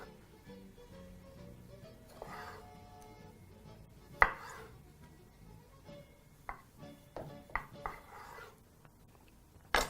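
Knife chopping tomatoes on a cutting board for a simple salsa: scattered sharp taps, a few louder strikes among quieter ones, close and fairly soft in a quiet kitchen.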